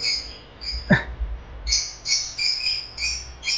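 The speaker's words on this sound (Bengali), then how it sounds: "এই যে এগুলো লাভ বার্ড, দেখতেই পাচ্ছ কত সুন্দর" Small lovebirds in a park aviary give repeated high, bright chirps and chatter, a steady flock chorus in close, mid-loud bursts with a brief sweeping call near the start, no talk.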